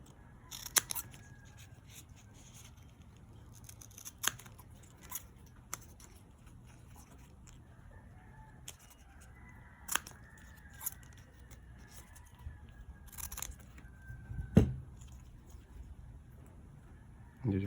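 Scissors trim the excess from a coconut leaf star with sparse, crisp snips spaced seconds apart against a quiet room, one cut standing out louder than the rest.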